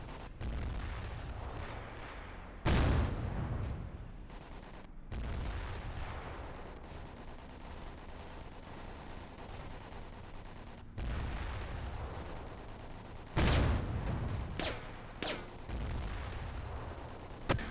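WWII video game battle gunfire: sharp, loud bursts and clusters of shots at intervals over a constant low battlefield rumble, with no one talking.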